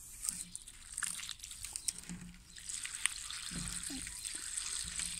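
Water pours from a watering can onto freshly planted leeks in a spring vegetable garden, filling the planting holes. A steady, close splashing trickle runs throughout, with faint outdoor background noise.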